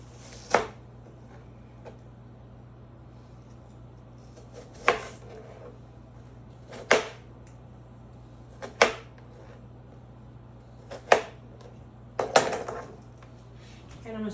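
A knife cuts a red onion into thin quarters on a cutting board: seven or eight sharp, crisp chops spaced a second or two apart, close and clear over a faint steady hum.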